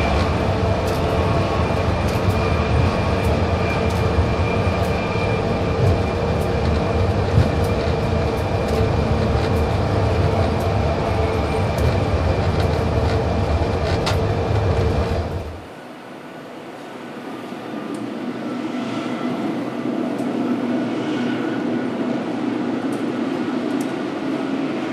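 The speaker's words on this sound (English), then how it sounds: "Our train is passing steam locomotive number 73 at the shops, and will soon be stopping in downtown Skagway." White Pass & Yukon railway train riding the rails near Skagway, a steady loud rumble with rhythmic clatter of wheels over track joints that drops abruptly midway to a quieter, lower rolling hum.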